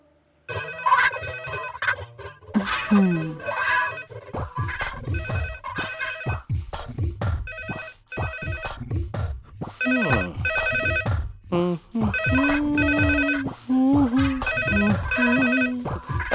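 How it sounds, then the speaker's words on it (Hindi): A telephone rings repeatedly in a steady, insistent pattern, loud and close, while people talk over it. "फोन।"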